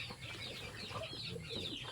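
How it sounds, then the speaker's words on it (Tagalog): Chickens on a farm in Palawan give short, soft clucks and scattered rustling in a quiet outdoor setting, faint and close, with no one talking. "Ang dami ng manok."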